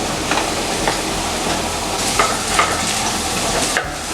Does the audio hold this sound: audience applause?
no